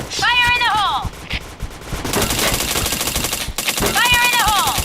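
Rapid automatic gunfire in a first-person shooter video game, loud continuous bursts with a brief break, overlaid by electronic game sound effects and chatter.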